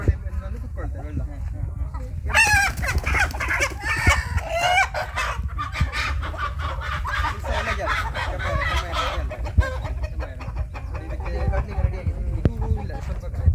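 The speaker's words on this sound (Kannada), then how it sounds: "ಈಗ ನಮ್ಮದೊಂದು 50 ಕೋಳಿ ಉಂಟು, ಬೇಸಿಗೆಗಾಲದ 100-150 ಸಹ ಆಗುತ್ತೆ." Chickens on a farm flock of about fifty cluck and chatter close by, with repeated calls and a crowing outburst, while a person talks over them.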